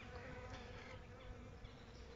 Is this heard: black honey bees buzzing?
yes